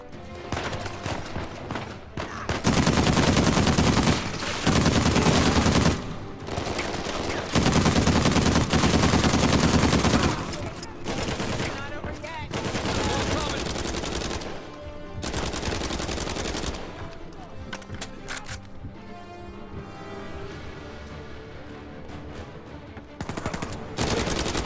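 Gunfire from a picked-up weapon in Uncharted 4 blasts in long, loud bursts of rapid shots, broken by short pauses and quieter stretches between volleys.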